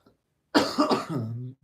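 A person with a cold and cough coughs once sharply, then gives a couple of rougher, throaty coughs that trail into a short voiced rasp, close and fairly loud with nothing else around.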